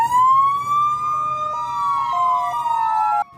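Sirens of ambulances and fire engines wail together in a funeral procession for two firefighters killed in a Hsinchu blaze, loud and close, with long rising tones and overlapping two-tone patterns that cut off abruptly at the end.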